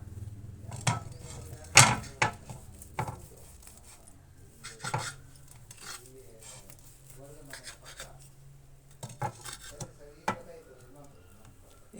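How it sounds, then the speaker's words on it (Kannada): Knife cutting a cooked egg omelette into small pieces, producing a series of scattered taps and scrapes against a plate or board at close range, with kitchen clatter between the strokes. "ಈಗ ನಾವು ಆಮ್ಲೆಟನ್ನು ಪೀಸ್ಗಳನ್ನಾಗಿ ಕಟ್ ಮಾಡ್ಕೋಬೇಕಾಗತ್ತೆ."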